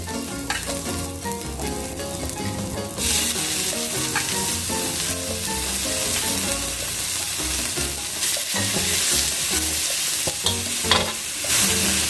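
Braised goose stir-fried with holy basil in a hot pan sizzles continuously, with steady scraping and stirring, close and loud throughout.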